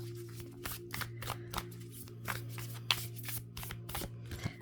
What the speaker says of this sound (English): we will take a Moonology Oracle card as well